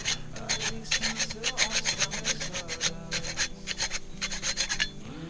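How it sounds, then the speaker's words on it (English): A hacksaw cuts through a cane fishing pole just below a joint, giving close, rhythmic rasping strokes in a steady back-and-forth pattern of about a dozen passes. "I'll trim it off, and I'll use a hacksaw"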